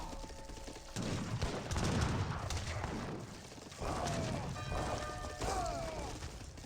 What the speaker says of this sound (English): The heavy cannon's just annihilating everything.